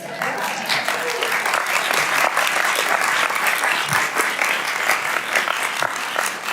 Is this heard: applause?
yes